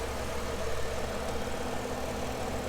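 A 2019 Cadillac XT5 Luxury AWD's 3.6 liter V6 idles quietly and steadily with a smooth, even low hum. The low-mileage engine runs alone without any talk.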